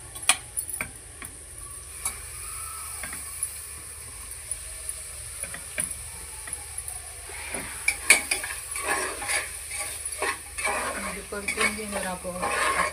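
Mint leaves are sautéed in a pan for vatana pulav with a faint sizzle under scattered scrapes and taps of a spoon stirring, close by and fairly quiet, with no talk.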